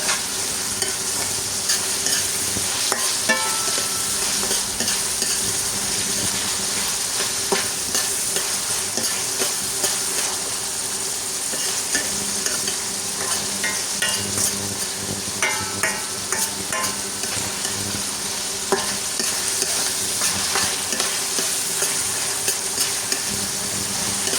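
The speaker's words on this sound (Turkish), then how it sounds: "şöyle soğanımı kavurayım. Soğan kavrulurken dolaptan biber çıkarttım." Onion fries in a pan with a constant close sizzle, punctuated by repeated scraping and clinking as it is stirred throughout, with no one speaking.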